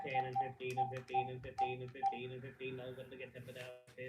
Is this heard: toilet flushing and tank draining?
no